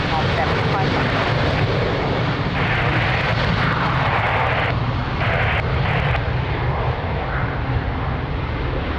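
A fixed-wing airliner's jet engines roar steadily through a takeoff run at Lisbon Airport on a windy day, loud and continuous, with air traffic control radio talk heard over the engine noise.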